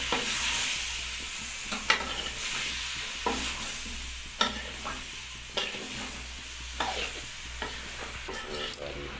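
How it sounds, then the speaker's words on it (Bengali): Mixed vegetables sauté in a pan with a little water and cumin powder, giving a soft continuous sizzle under repeated scraping stirs of a utensil, close and fairly quiet, with no talking. "এভাবে হালকা জল দিয়ে একটু কষে নিতে হবে।"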